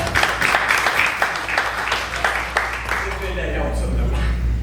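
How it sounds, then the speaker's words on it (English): A candidate forum audience at a chamber of commerce event gives a short round of applause, lively clapping that fades after a few seconds into a low hum and quiet room noise. "Let's give a round of applause for that."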